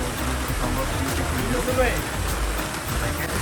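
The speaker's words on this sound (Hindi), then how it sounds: "इस टाइम बारिश का मंजर आप देख सकते हैं।" Rain falls near the Kumrat waterfall in Kumrat Valley, a broad watery rush running continuously while someone talks over it.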